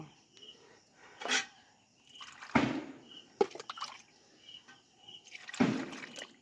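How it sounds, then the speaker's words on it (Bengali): Water drips and trickles over vegetables being rinsed, in short irregular splashes with quiet gaps between them, close by and fairly soft. "এবার আমি সবজিগুলো ধুয়ে নেব"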